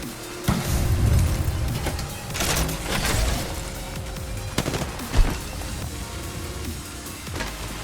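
Rapid automatic gunfire and scattered shots from an Apex Legends firefight, loud bursts up close mixed with more distant fire and a sharp bang.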